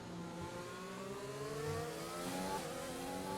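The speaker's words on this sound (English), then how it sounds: "And just broken engine noises throughout the grid" Race car engines roar around the Baku city street circuit in a racing video game, a steady drone of several revving engines with rising and falling pitch, moderately loud and continuous.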